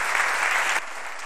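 Applause from a forum audience in Guadarrama, a brief wash of clapping that drops in level partway through.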